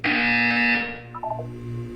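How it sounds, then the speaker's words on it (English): A harsh electronic buzzer in the video game Portal 2 blares loudly for about a second, then cuts off and leaves a low mechanical hum with a few soft electronic blips. "You will hear a buzzer. When you hear the buzzer,"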